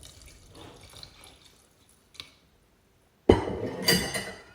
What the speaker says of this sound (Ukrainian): вливаємо 1 третю молока